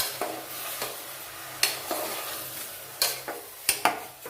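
Peas, carrots and tomatoes stirred in a pan for pav bhaji, with sharp spoon scrapes and clacks against the metal at irregular intervals over a low sizzle, close and fairly loud, no talking.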